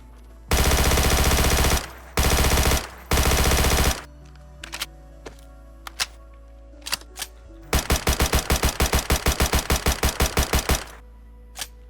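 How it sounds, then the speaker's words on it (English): An MP7 submachine gun in a DayZ mod fires in three rapid full-auto bursts, followed by scattered mechanical clicks and handling sounds, then a longer crisp burst of distinct shots, loud and close with no talk. "And the last gun on the list is the MP7"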